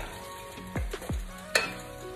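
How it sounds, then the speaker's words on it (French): Onions, peppers and tomatoes fry in a pan with a soft, low sizzle, broken by a few muffled knocks and a brief clatter close by. "Je vais le frire"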